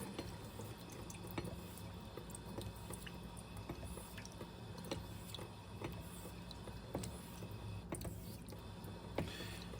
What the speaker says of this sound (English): I'm just going to do some passes on some running water here